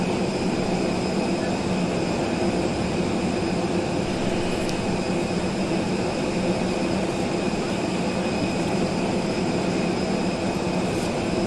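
Airliner engines of an A339X in Microsoft Flight Simulator give a steady, unbroken drone with a constant hiss and hum. The sound is even and alone, with no talk.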